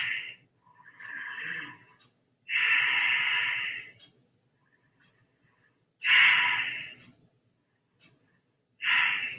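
A person taking three deep breaths during a morning exercise routine, each breath a loud, close, breathy rush of air separated by short silences, with a softer breath early on.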